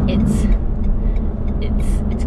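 A 2019 Renault Megane RS with a manual gearbox driving, a loud steady low engine and road rumble with people talking over it.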